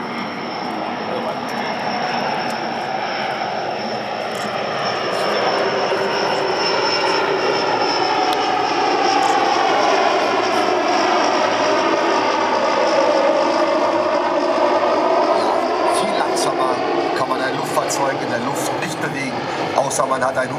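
A propeller airplane engine drones steadily at a military air show in Wunstorf, loud and close, rising slightly in intensity with shifting tone as it moves.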